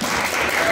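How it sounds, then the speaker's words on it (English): Audience applause for a student athlete at her signing event at Oxford High School: a brief, dense burst of many hands clapping at once, steady and loud throughout. "let's give Maya a big round of applause"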